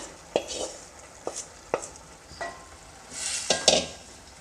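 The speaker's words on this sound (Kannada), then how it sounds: "ಬೆಂಡೆಕಾಯಿ ಬೆಂಡೆಕಾಯಿನ ಇದರೊಳಗಡೆ ಹಾಕ್ಕೊಳ್ತಾ ಇದ್ದೀನಿ" Fried okra goes into a pan of frying onion and tomato, a few sharp spoon taps and scrapes against the pan spaced about half a second apart, then a brief louder sizzle near the end, all close and fairly quiet.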